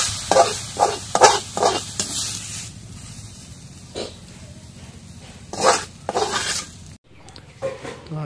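Mara shak greens frying and being stirred in a pan, with intermittent scraping and clattering bursts from a utensil against the pan over a low steady sizzle.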